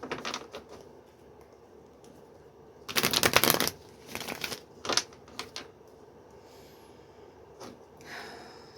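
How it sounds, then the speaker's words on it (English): Tarot cards shuffled and pulled, with quick flutters and riffles, one louder burst of shuffling, then scattered light card snaps in a quiet room. "We're gonna keep pulling these cards until we get to the bottom of it"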